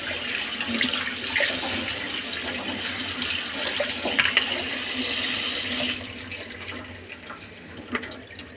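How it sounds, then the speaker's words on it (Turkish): Spinach roots washed in plenty of water at a kitchen sink, a steady loud running tap with splashing, then quieter dribbling and a few splashes near the end. "ıspanak köklerini bol suyla şöyle güzel güzel yıkayalım"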